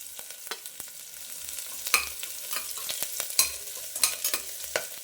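Green chillies and ginger garlic paste fry in hot oil, with a close crackling sizzle broken by quick stirring scrapes and clicks of a spatula against the pan.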